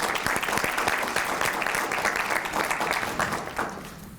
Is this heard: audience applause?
yes